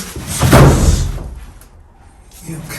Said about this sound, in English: He just slammed me to that wall.